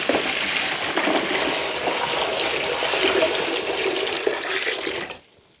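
Water running steadily over rugged USB drives during a water resistance test, a loud continuous splashing rush that stops abruptly near the end, with no talking.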